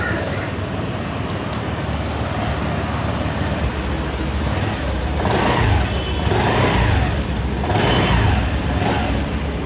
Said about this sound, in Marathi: सध्या शोरूमच्या आतमध्ये गाडी असल्यामुळे तुम्हाला फक्त हे ऐकून दिला साऊंड कसा येतो गाडीचा